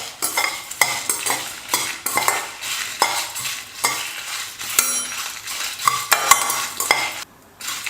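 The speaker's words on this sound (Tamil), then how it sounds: "எல்லா மசாலா எண்ணெய் போடாமல் வறுத்துக்கணும்." Whole spices (coriander seed, fennel, cumin, cardamom, cinnamon, cloves, dried red chillies) dry-roasting in a pan without oil, stirred with rhythmic, close scraping and rattling strokes against the metal, with no speech.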